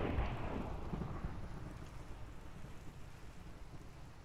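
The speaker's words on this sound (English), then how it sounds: "With thunder for dramatic effect." Thunder and rain in Minecraft, a deep rumble of thunder rolling in and fading under a steady, even hiss of rainfall.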